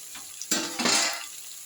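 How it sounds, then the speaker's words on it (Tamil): Chopped banana flower sautéed in a pan for a chutney, a burst of sizzling and a stirring scrape rising sharply mid-clip and then easing back, close and fairly loud, with no talking. "நல்லா வதக்கி விட்டுடலாம் அப்படியே லைட்டாக ஒரு ரெண்டு நிமிஷம் வதங்கட்டும்"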